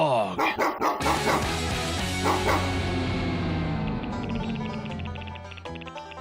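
Barking in a Super Mario World hack's music track, a dense looping game song with repeated dog-bark samples punching through the melody, loud and continuous with talk over it.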